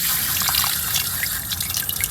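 Potted spider plants being rinsed in a bucket of water: continuous close splashing and trickling, with droplets pattering throughout and no speech.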